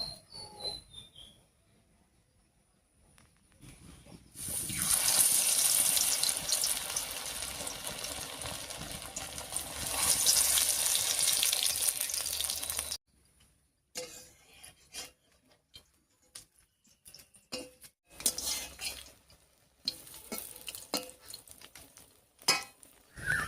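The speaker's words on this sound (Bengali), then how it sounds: "যে দুটো বড়া আমি রেডি করে রেখেছি সেগুলো ভেজে নিচ্ছি" Pumpkin leaf and masoor dal fritters go into hot mustard oil in a kadai. A loud, rushing sizzle swells for about eight seconds, then gives way to quieter clinks and scattered kitchen clatter.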